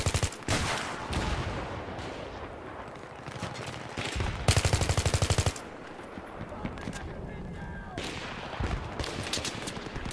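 AN-94 assault rifle firing in Battlefield 3, loud rapid automatic bursts with a dense stretch of fire in the middle, over continuous battlefield noise and distant shooting.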